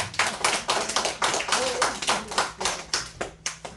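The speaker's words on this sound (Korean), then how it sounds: "박수 한 번만 쳐주세요." A congregation clapping during a Sunday church service, a loud rhythmic run of hand claps in a regular beat, with a voice faintly underneath.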